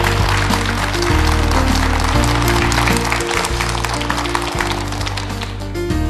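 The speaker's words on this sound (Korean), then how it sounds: "서경준 교수님께 다시 한번 큰 박수 부탁드립니다" A studio audience applauds lecturer Professor Seo Kyung-jun at a Korean televised lecture on Tolstoy, a steady dense wash of clapping lasting several seconds over sustained musical tones.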